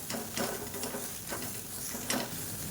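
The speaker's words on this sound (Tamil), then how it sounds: "கொத்தமல்லி சேர்த்துட்டு நல்லா வதக்கி விட்டுக்கலாம்" Coriander leaves sautéed with coconut in a pan for a chutney make a soft sizzle, with a few brief scraping stirs spaced through the moment, close and fairly quiet.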